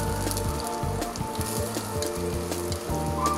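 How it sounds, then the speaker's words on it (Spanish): Chopped onion and half a garlic clove sizzling in a splash of oil, a steady crackling fry carrying on throughout, with some faint clinking and tonal background sounds. "Un chorrito nada más para hacer un rehogado de lo que es la cebolla y el ajo."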